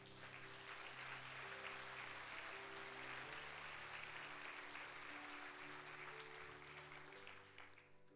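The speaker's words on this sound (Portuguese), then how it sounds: "E se você crê nisso, dê um aplauso ao Senhor." A church congregation at a Sunday service applauds steadily for about eight seconds, the dense clapping loud and even while sustained musical tones play underneath.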